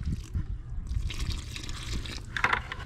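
Water splashes and pours into concrete mixed with bonding primer for a porch patch, with a brief brighter trickling burst near the end over low rumbling background noise.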